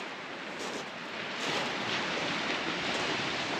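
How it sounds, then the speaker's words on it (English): Waves wash steadily onto the beach at Harrison Lake as a broad, constant hiss that swells slightly partway through, with no voices. "People bring their tents right down onto the beach and set them up and just listen to the waves"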